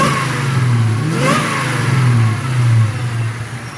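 Supercharged 1998 Ford Mustang Cobra with a Kenne Bell supercharger and freshly repaired exhaust leak, running steadily with a low, even engine note and a brief rise in revs partway through, close by with no talking.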